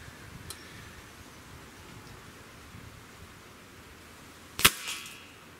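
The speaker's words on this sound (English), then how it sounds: "I'm taking 1 more shot" A single sharp report from a Cometa Fenix 400 air rifle near the end, loud and close against a quiet outdoor background, with no talking.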